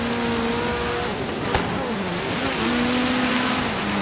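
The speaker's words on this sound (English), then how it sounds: "That's a drift for you. That's one drift." Car drifting in the racing video game Forza Horizon 3, Blizzard Mountain snow setting: a steady engine drone with gear shifts and tire scrubbing, one sharp click midway, no voices.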